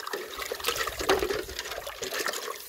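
Water splashes and trickles over a handful of red iron stone jasper rocks as they are rinsed off outdoors, a short close burst of running liquid.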